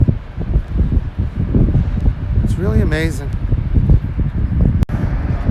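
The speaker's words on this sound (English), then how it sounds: "A little bit windy here," Wind rumbles and buffets the microphone continuously while a person speaks briefly over it.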